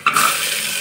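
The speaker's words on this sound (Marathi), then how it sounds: "कांदा थोडा फ्राय होऊन, तर कांदा फ्राय होऊ दिलाय।" Onion frying in a pan, a loud, steady broadband sizzle starting abruptly and holding evenly throughout without talk.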